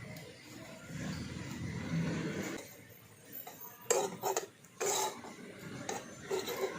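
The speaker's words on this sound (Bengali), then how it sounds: "সোডাটা দিয়ে খুব ভালো করে আমি পুরটার সঙ্গে মিশিয়ে নিচ্ছি" A spoon clinks and scrapes against a pot while mung dal kachori filling is mixed with a pinch of baking soda, quiet scraping broken by a few sharper knocks.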